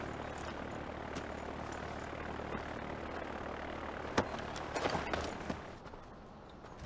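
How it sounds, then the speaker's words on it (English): Propeller plane engine idling before takeoff in the Far Cry 4 video game, a steady moderate drone with a few sharp clicks and thumps near the end. "The one in the plane that's about to take off."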